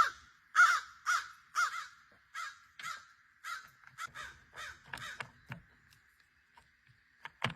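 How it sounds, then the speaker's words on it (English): Several crows caw loudly and nearby, a rapid series of harsh calls at first, then shorter, quieter caws overlapping and tapering off toward the end. "now the other crows have arrived"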